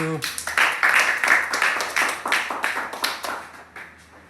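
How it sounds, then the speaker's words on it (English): Audience applause welcomes a guest speaker at a university commencement ceremony, a dense, steady patter of many clapping hands that starts after a brief voice and thins out toward the end. "Let us welcome with big applause."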